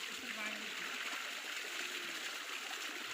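Running water pours steadily over a goat being washed, a continuous close splashing and trickling hiss with no pauses.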